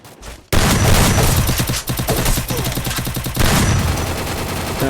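AK rifle fire in the Free Fire mobile game's training ground, a loud, close burst of rapid automatic shots following a brief quiet start, sustained to the end with no talking.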